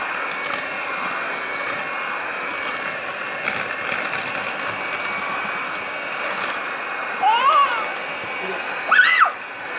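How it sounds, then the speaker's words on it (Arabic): An electric mixer beats eggs and sugar for a homemade cake batter, a steady close motor whir running throughout, with a couple of brief louder bursts near the end. "نضرب البيض."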